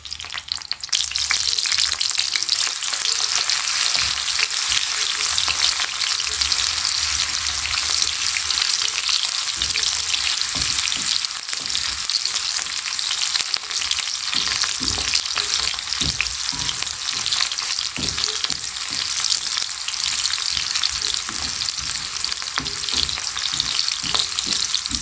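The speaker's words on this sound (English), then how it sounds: "next we fry our onions until they become translucent" Onions fry in a pan until translucent, giving a loud, dense, unbroken sizzle that holds steady for the whole stretch, with faint crackles and pops inside the hiss and no voices.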